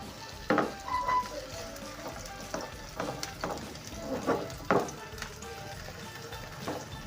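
Vegetable paratha in an oiled non-stick pan, a soft sizzle with scattered taps and scrapes of a utensil, quiet and close.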